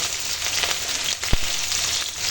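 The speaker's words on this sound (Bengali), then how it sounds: "দিয়ে এখন ভালো করে ভেজে নেব" Steady oil sizzle of onion, garlic and chili frying in a pan, with a brief thud partway through and no talking.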